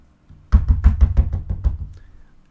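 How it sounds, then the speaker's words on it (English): Close, loud knocking on a door: about eight firm raps in a steady run, alone with no talk over them. "So, getting up, you hear a knock at the door."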